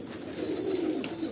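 A pigeon coos close by, a short low throaty warble rising and falling over a quiet background.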